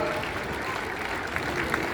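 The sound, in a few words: applause from the audience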